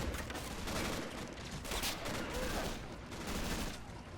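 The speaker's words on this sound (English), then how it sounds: "They're going to resort to their pistols." Video game battle at Stalingrad in which a dismounted tank crew fires pistols: rapid overlapping gunfire crackles continuously, fairly faint and dense, like a distant firefight.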